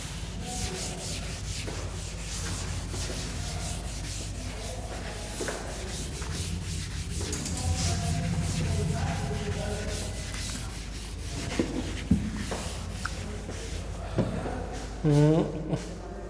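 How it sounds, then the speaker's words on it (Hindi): A board is erased with repeated rubbing strokes for a class 10 coordinate geometry lesson, a steady scratchy swishing that runs throughout, with someone talking in places over it. "पहले तो हम इसे इरेज कर दें।"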